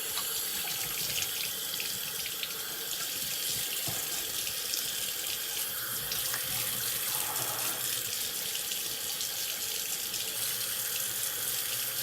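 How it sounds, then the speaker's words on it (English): Tap water runs from a faucet into a sink for a cold water rinse after a wet shave, a steady close hiss and splash that continues unbroken throughout. "That's it in a cold water rinse."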